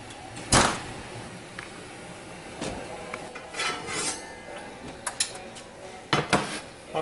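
A cast iron pan is handled and slid into an oven, giving a few sharp metallic clanks and knocks separated by quieter scraping and shuffling, close by and without speech.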